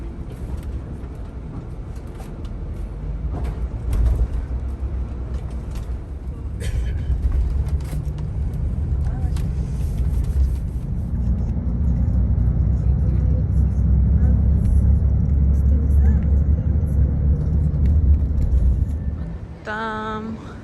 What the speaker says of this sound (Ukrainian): Автобус заїжджає в потяг, і потяг їде під водою.